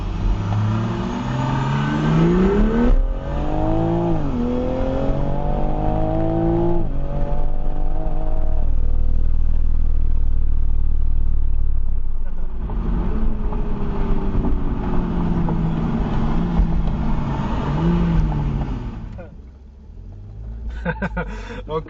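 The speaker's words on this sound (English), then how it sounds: "we did a little bit of a race, but we beat an Audi" A Toyota MK5 Supra accelerating hard while racing an Audi RS4 on the road, engine note rising and falling through gear changes, loud and sustained with rumbling road noise throughout.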